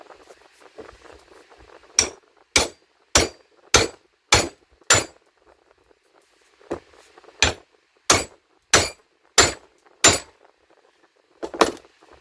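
Hammer blows drive a wooden handle into a steel hatchet head: two runs of about six sharp, ringing metallic strikes in steady rhythm, close and loud, separated by a short pause, with a final pair of hits at the end.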